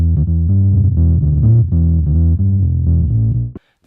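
A 1967 Gibson EB-3 electric bass in faded cherry, neck pickup with the choke engaged, plays a loud, thick run of sustained low notes with a steady rhythm for over three seconds before stopping abruptly.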